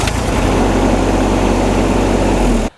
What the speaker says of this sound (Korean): 자, 이제 시동을 한번 걸어보도록 하겠습니다.